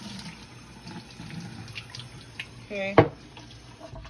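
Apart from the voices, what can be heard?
filling a container with water from a sink tap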